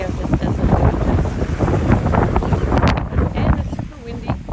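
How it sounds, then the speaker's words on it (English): Heavy wind gusts on Treasure Island, Florida roar across the microphone continuously, nearly drowning out a person speaking close by. "And it's super windy."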